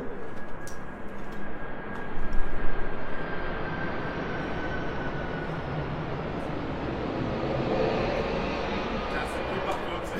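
An airplane passes overhead with a broad, steady roar that swells briefly early on, then holds as a continuous rumble, with faint voices in the background.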